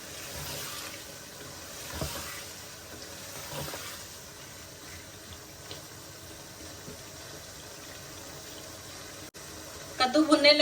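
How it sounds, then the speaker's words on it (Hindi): Pumpkin fries in spice masala in a pan, giving a steady soft sizzle throughout with a few faint stirring scrapes and a louder clatter at the end, under a woman's speech. "जो कद्दू हमने काट के रखे थे मसाले में शामिल करेंगे और इनको अच्छे से भून लेंगे।"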